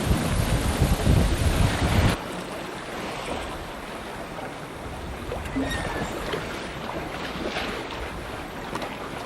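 Steady wind rushes and buffets the microphone on the deck of a sailing boat at sea on a cloudy day, with water washing along the hull. It is loudest and roughest in the first two seconds, then a continuous, slightly softer roar.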